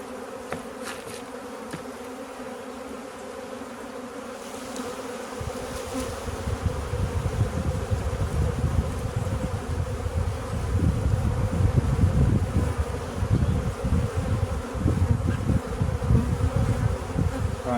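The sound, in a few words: buzzing honey bees at a hive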